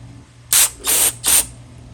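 Three short bursts of aerosol spray hiss through a narrow straw nozzle into a hole in a Holley carburetor, each about a quarter second long, close and loud with brief pauses between.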